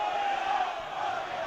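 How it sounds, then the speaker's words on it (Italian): Dense crowd noise from fans filling the central stand at the Pala Barsacchi during a Serie A1 roller hockey match, Viareggio against Forte dei Marmi, a steady roar of cheering and chanting with no pauses throughout. "C'è un bel tifo"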